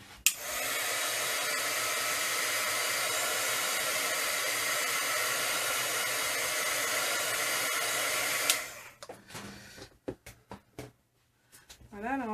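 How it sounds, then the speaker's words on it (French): A heat gun blows steadily on drawing gum, a loud, constant broadband whoosh for about eight seconds that cuts off, followed by brief handling noises and a short burst of speech. "Je vais mettre un petit peu de heat gun, vite fait."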